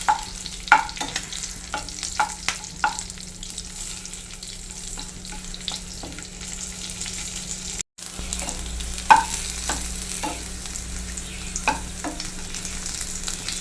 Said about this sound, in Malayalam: ഇതൊന്ന് നല്ലപോലെ ഒന്ന് ഫ്രൈ ആക്കി എടുക്കാം